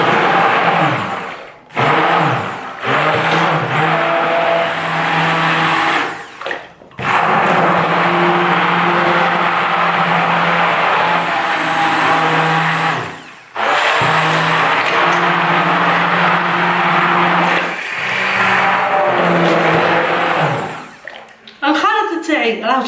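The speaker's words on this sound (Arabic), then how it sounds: "ونبدا نخلط مليح بالبراميكسور" Electric blender mixing carrot juice with sugar, a loud steady whir with harmonic drone that runs in several long bursts separated by brief pauses, ending in a short tail of handling noise.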